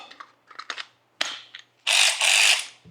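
A powered ratchet drives bolts on a Polaris Pro R side-by-side, with several quick clicking bursts followed by a louder sustained rattling whir, close up and without talk.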